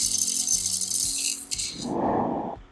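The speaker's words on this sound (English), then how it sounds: "here again coffee bean spilling sound effect" A loose, rattling cascade of small hard pieces, followed by a brief denser spill that fades out, close and clear with no voices.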